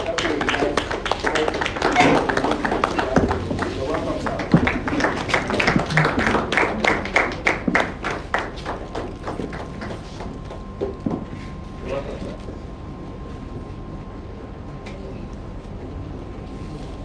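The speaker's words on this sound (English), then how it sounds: "Please with the standing ovation and the round of applause." Audience applause and a standing ovation at a professional assembly, many hands clapping steadily for several seconds before the claps thin out and fade into room tone, with a brief spoken reply near the start.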